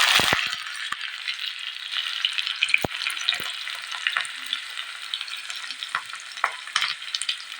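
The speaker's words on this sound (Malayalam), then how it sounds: "അതിലേക്ക് 1 സ്പൂൺ കടുകിട്ടു." A spoonful of mustard seeds crackles and spits in hot oil during tempering, a steady close sizzle dotted with sharp pops and light rattling, with no voices.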